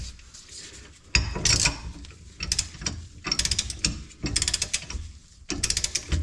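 A ratchet tightens the lock nuts on a Cusco reinforced differential carrier for a Subaru WRX STI, giving close, crisp bursts of rapid clicking in several separate runs with short pauses between them.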